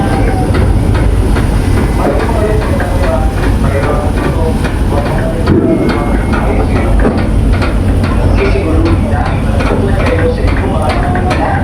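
A train on the San Agustin to Lucena run rolls along with a continuous loud rumble and steady clickety-clack of wagons on the rails, heard from close on board, with faint voices under it.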